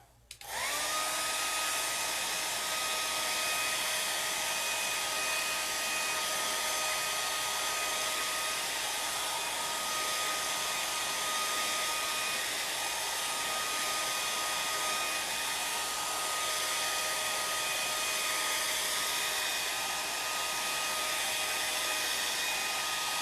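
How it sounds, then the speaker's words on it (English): A hair dryer blowing on hair, switching on abruptly then holding a loud, steady whirring rush with a constant high whine throughout, close by. "I'm just going to blow dry it really quick so we can have a faster time."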